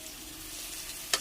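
Food fries in a pan with a steady soft sizzle close by and a brief sharp crackle near the end; no talking.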